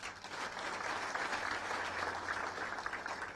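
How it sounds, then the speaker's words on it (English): An audience clapping for the partners of athletes, a steady, fairly faint and distant patter of many hands that keeps an even level throughout with no clear speech. "Perhaps you can just give them a clap."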